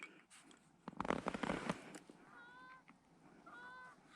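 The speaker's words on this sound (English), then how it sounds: "Well, I'm gonna shoot these 2 geese." Canada geese honking during a North Dakota goose hunt: a loud burst of crackling noise early on, then several clear two-note honks at mid distance, standing alone without talk.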